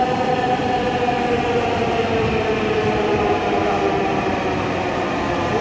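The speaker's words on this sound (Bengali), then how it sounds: "আপনারা দেখতে পাচ্ছেন যে আপনার মেট্রোটা আসতেছে" A Dhaka metro rail train rumbles steadily along the platform, with a continuous roar and faint high wheel squeal above it, no voices.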